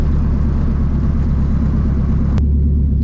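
A K24-swapped Honda Civic engine runs with a deep, steady, loping rumble heard from inside the car, continuous and fairly loud, with a brief click near the end.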